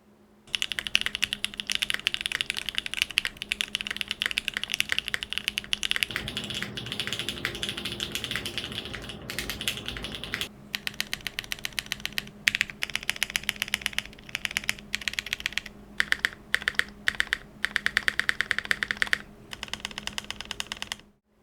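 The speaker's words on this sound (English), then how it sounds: "I have mine built with spring-swapped Lubed browns on PC plate instead with TXAP stabilizers, topped off with GMK Shashin." Typing on a custom mechanical keyboard with spring-swapped lubed brown switches on a PC plate, TX AP stabilizers and GMK Shashin keycaps: a steady, close run of soft clacky keystrokes with brief pauses, no voices.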